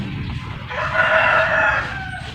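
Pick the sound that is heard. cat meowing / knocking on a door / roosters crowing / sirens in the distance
roosters crowing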